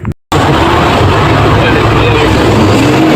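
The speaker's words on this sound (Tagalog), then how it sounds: "Siyempre painitin natin muna ang makina bago tayo magrevolusyon." An Isuzu 6HK1 diesel engine, low on power and smoky, idles while warming up, giving a loud, steady low rumble with a rhythmic knock after a brief cut near the start.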